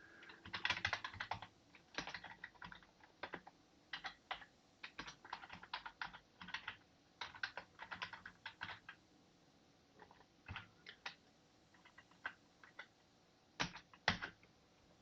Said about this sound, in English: Okay, I typed 26 characters, right?